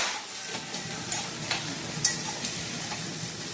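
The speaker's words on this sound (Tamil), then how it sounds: "வெங்காயத்தை வதக்கிட்டு இப்படி நல்லா வதக்கணும்" Onions sautéing in oil, a soft continuous sizzle with occasional light spatula taps and scrapes, fairly faint and close.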